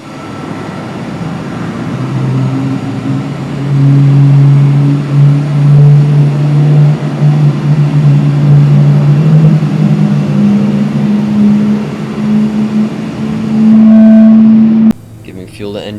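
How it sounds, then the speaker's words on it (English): A Boeing 747-8F engine 2 spools up during start in Microsoft Flight Simulator, a low droning whine that rises and steadies over about fifteen seconds before cutting off, with a voice speaking over it. "Starting engine 2."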